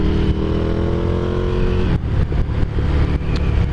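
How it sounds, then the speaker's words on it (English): A 2016 Ducati Scrambler Classic motorcycle engine runs while riding, loud and close, holding a steady revving tone before the pitch drops sharply and the rumble continues with uneven throttle bursts. "I'm on a Ducati Scrambler, the classic 2016."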